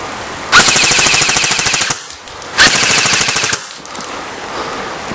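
A DBoys AK 74 full metal and real wood airsoft rifle fires two rapid full-auto bursts with a mid-capacity magazine, each a loud, close, rattling stream of shots lasting over a second, in rainy outdoor conditions.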